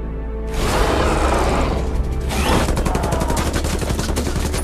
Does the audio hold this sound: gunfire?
yes